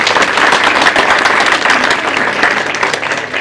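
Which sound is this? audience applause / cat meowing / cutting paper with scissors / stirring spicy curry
audience applause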